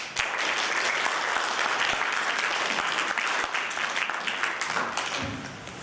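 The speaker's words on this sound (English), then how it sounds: "A huge round of applause" Sustained, loud applause from a seminar audience fills the whole stretch, dense and even, easing slightly toward the end before a speaker takes the stage.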